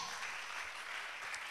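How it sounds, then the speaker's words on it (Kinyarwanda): A congregation applauding during a church service, a steady dense wash of many hands clapping together that keeps going without a break, with no voices standing out. "mureke tuyongere amashyi menshi"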